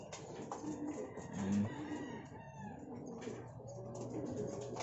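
Young pigeons settling into a new loft give soft, low coos and bird calls at a quiet level, scattered over faint background sounds, with no one speaking.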